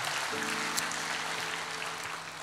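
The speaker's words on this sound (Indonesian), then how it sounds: "Ayo tepuk tangan di atas kepalamu dulu saudara" A church congregation claps hands above their heads at a JCC Cijantung worship service, a steady dense wash of applause filling the hall, with a held musical tone underneath.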